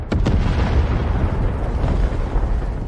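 Explosions from an AI-generated action scene roll out as a dense, loud, continuous rumbling blast with a couple of sharp bursts at the start and layered debris-like noise throughout, no speech.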